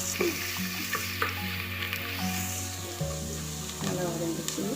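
Ingredients for a nethili (anchovy) fish curry sauté in a hot pan, a steady close sizzle and frying hiss with occasional stirring scrapes, heard on its own without talk.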